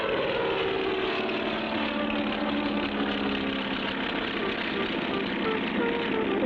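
A cartoon propeller airplane drones steadily and loudly throughout, a continuous engine hum with a buzzing propeller tone at even volume and no breaks.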